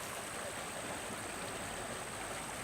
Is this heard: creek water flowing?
yes